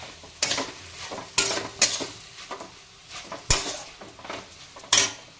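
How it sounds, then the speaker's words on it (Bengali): A utensil stirs taro stolons (kochur lati) frying in a pan, giving irregular sharp scrapes and clanks against the metal over a soft sizzle, close by with no talk. "হ্যাঁ এইবার একটু সেদ্ধ হয়েছে, হ্যাঁ এবার ভাজা ভাজা হবে।"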